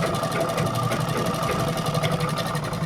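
A sewing machine runs steadily while stitching a V-neck designer blouse, a fast, even mechanical whirr with rapid rhythmic needle ticks throughout, close and continuous.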